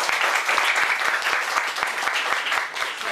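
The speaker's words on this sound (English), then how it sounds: "Can I have a big round of applause for Edwin?" An audience at a talk gives a big round of applause, dense continuous clapping that stays loud for the whole stretch before tapering slightly at the end.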